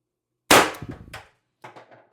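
A TR50 CO2 air rifle running on a 90 gram CO2 bottle fires a single loud, sharp crack that rings off briefly, followed a moment later by a fainter, softer report.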